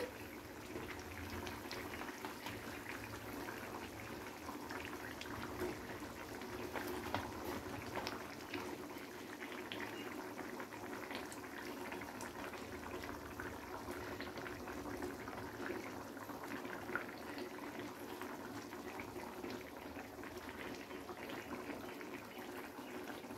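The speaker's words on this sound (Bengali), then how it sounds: "তো 2 থেকে 3 মিনিট আমি ঝোলটাকে ফুটিয়ে নিয়েছি।" Bengali fish kalia gravy boils in a pan, a quiet, continuous bubbling and simmering that stays even throughout, with no talk over it.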